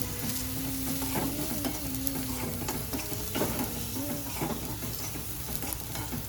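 Spice masala with coriander-cumin, chutney, turmeric and garam masala crackling in hot oil, a loud steady sizzle with stirring scrapes and a faint tone humming underneath.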